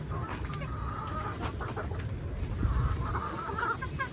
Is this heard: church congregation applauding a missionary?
no